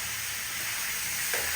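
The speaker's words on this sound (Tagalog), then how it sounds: "Kasama na siya sa pagprito." Pork adobo, pata in a light garlic, pepper and bay leaf braise, sizzles as it fries in a pan, giving a steady close hiss of bubbling oil with a slight swell near the end.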